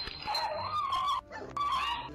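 A dog barks and whines at a raccoon that is hiding in a Christmas tree, in two drawn-out, yelping bursts with a brief gap between them. The sound is moderately close over a noisy indoor background.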